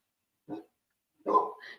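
A dog barks twice, close and fairly loud: a single short bark, a pause, then a longer bark trailing into a higher yip, with no talk around it.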